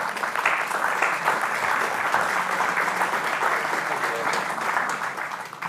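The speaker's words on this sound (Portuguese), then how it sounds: "As palmas são para ele." An audience applauds steadily and loudly for the whole stretch, a dense, even clatter of many hands clapping, with no voices standing out.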